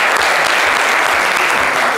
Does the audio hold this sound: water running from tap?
no